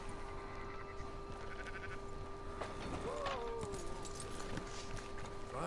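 Sheep in the Red Dead Redemption 2 video game, a single wavering bleat in the middle over faint hoof clops and steady low ambient noise, fairly quiet and not far away.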